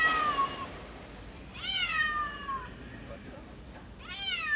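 Cats meowing at a cat show at Madison Square Garden in New York: three drawn-out, plaintive meows spaced a second or two apart, fairly close, over a low steady background hum.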